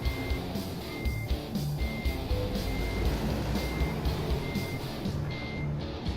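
A truck backing up with its trailer in the driving game American Truck Simulator sounds regular reversing beeps, about one per second, over a constant loud diesel engine drone.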